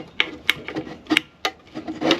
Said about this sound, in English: just take a little flathead. I'll just kind of pry this seal plate off.